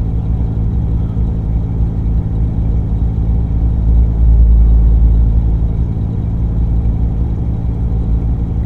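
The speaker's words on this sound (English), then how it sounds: "Listen to that truck, listen to the engine idle so low" A heavy 18-gear truck engine in American Truck Simulator idles low and steady, a deep rumbling drone that swells slightly midway before settling back.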